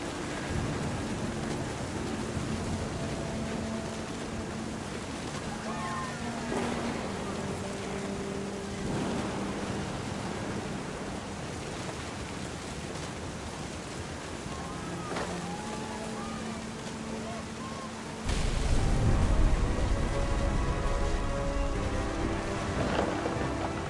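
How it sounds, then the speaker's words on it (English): Thunder and steady rain in the video game What Remains of Edith Finch: a continuous wash of rainfall with low rumbles, swelling into a louder, deeper thunder roll near the end. "The thunder sounded much too close and full of angry power"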